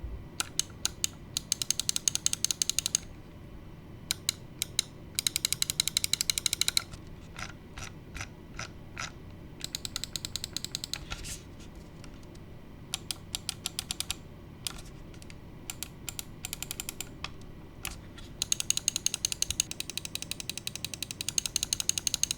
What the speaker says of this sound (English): I'm gonna go ahead and demonstrate for you what the clicks sound like